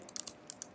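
Quick light keystrokes on a computer keyboard, about half a dozen soft close clicks in an uneven burst, with no talk.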